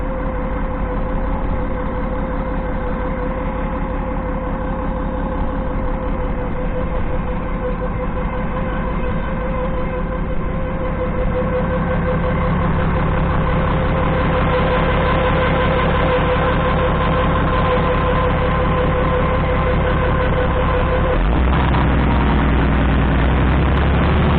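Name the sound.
Massey Ferguson 1100 tractor engine running with whine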